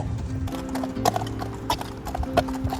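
Horse hooves clip-clop steadily along a tight river trail during a long-distance horseback ride, a close rhythmic clatter of footfalls with a low background rumble and no speech.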